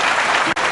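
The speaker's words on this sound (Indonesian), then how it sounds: "Tepuk tangan buat Chris dong." A brief burst of loud crowd clapping for Chris at a campus event, dense and continuous with a momentary dip just past the midpoint.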